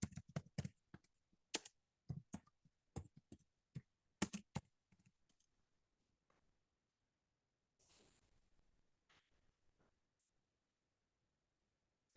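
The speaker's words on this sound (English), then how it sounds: "maybe I'll type it here for you" Typing on a computer keyboard, a quiet close run of irregular key clicks in short bursts that taper off, followed by a faint rustle and near silence.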